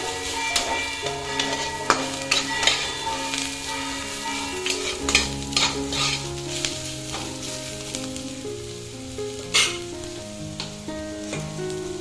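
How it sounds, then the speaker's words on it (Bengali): Onions fry and sizzle in a pan while being stirred, a steady close sizzle with scraping stir sounds and occasional clicks of the spoon, no talking. "দেখুন পেঁয়াজটা আমার লাল লাল করে ভাজা হয়ে এসছে।"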